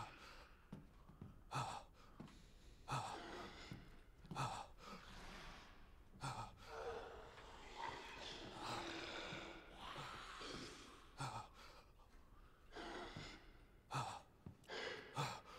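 Heavy, ragged breaths and gasps in Resident Evil Village repeat one after another, fairly close and quiet, with no talking.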